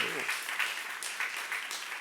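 A congregation at a church youth service claps together in dense, continuous applause for about two seconds.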